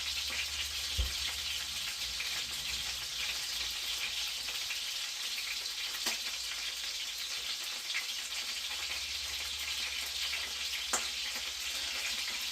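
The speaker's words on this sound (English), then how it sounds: "let me turn this fire back up so this butter can melt" Garlic herb butter melts in a hot pan over a turned-up flame, giving a steady, low crackling sizzle with scattered pops and a few spoon taps, close and continuous with no talking.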